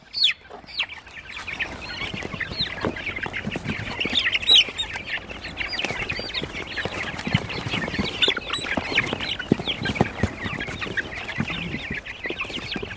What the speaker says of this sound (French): les poulets de chair sont bien plus gros